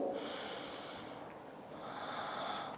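Quiet, deep breaths drawn in and let out through the nose during a floor stretch, with soft airy snorting breaths close up and nothing else audible.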